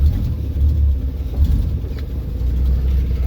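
A 1957 Chevrolet 210, not yet tuned, idles with a steady, loud low engine rumble close by, pulsing slightly throughout with no talk.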